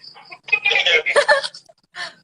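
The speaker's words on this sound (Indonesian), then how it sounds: "Ada suara burung." Chicken or bird calls ring out in a series of loud, clucking and squawking bursts, fairly close and with no one speaking over them.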